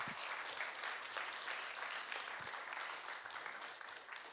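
A church congregation applauds during a French-language service, a fairly soft, distant wash of many hands clapping continuously for a few seconds without voices.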